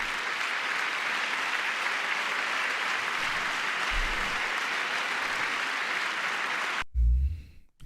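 Sustained audience applause during a congressional address, a broad, even roar of many people clapping that holds steady for nearly seven seconds before cutting off sharply into a brief low thump.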